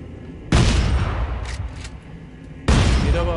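Gunfire bursts from a newly acquired weapon in the video game Dead Space 3, two loud sustained blasts with a quieter stretch between them.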